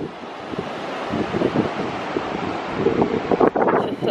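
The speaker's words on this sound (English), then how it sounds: "It's a little water stream coming from the ocean." Water of a small stream flowing out toward the ocean on the Cornwall coast, a steady broadband rush and gurgle blended with wind buffeting the microphone and nearby surf, continuous with no voices.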